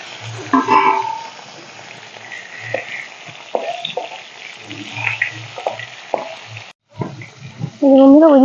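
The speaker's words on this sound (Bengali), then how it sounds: "তখন আমি মাছগুলো ভেজে নেবো" Rui fish frying in hot mustard oil in a kadai, with a steady close sizzle and scattered crackles and spatters, and occasional brief clatters of a utensil.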